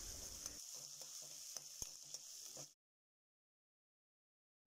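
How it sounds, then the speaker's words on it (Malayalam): Sliced onions with salt sautéing in a pan for a vegetable korma, giving a bright steady sizzle with occasional soft stirring scrapes, close and alone, then cutting abruptly to silence. "എന്നിട്ട് ഇത് നല്ലോണം നമുക്ക് വഴറ്റിയെടുക്കാം."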